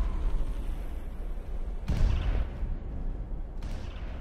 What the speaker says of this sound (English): Freaking explosions everywhere,